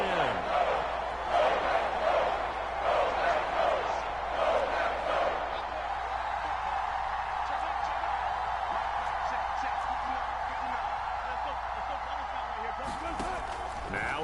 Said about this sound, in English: Crowd getting in it a bit already.